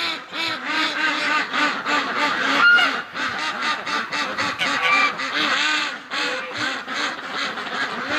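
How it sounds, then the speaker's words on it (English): A flock of about fifty female ducks quacks loudly and continuously at close range in a wintry yard, dense overlapping calls in a steady pulsing chorus with no talking. "these 51 females are unbelievably loud"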